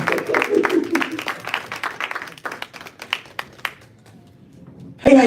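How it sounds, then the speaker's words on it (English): Applause at a dinner event for an introduced president, brisk claps that thin out into a few isolated claps and fade to near quiet, ending with a loud thump. "Applause, please"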